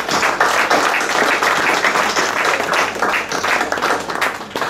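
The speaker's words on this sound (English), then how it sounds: "Give them all a thunderous round of applause." An audience at an Arabian debate event bursts into loud, sustained applause for the debate teams, with many hands clapping in a dense, continuous roar that barely dips across the span.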